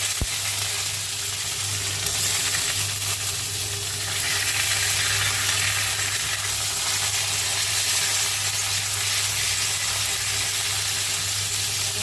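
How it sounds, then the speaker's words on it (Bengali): Bitter gourd fries in hot oil in a wok tempered with nigella seeds and green chilli, giving a constant close sizzle and crackle that holds steady for the whole stretch. "উচ্ছেটা এবার আমি শুধু ভালো করে ভাজি"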